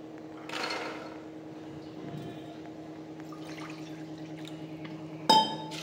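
A glass of water is poured over chickpeas in a pot, a short liquid splash near the start followed by a quiet steady background hum, then a sharp clink of glass near the end.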